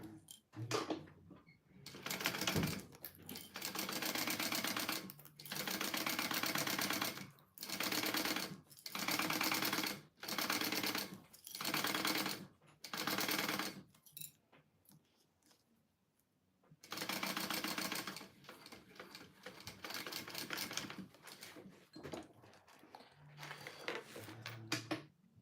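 A sewing machine stitching a Passion Flower tote bag runs in repeated bursts of rapid mechanical clatter, close and steady, separated by short pauses, with a longer run near the end.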